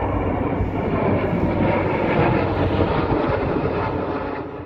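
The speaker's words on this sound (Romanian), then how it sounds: "un exercițiu aviatic în care un elicopter IR-330, trei avioane MiG-21 Lancer și două aparate de zbor F-16 au simulat un atac" Military aircraft fly past during an air exercise involving an IAR-330 helicopter, MiG-21 Lancer jets and F-16 jets: a loud, steady engine roar fills the whole stretch and fades slightly toward the end.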